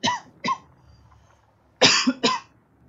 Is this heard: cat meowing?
no